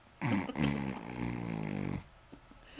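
A dog's long, drawn-out yawn with a whiny, tonal rise, close by, lasting under two seconds before quiet returns.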